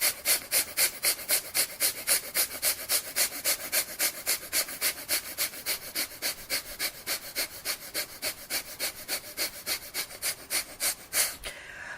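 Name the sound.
rapid deep breath of fire breathing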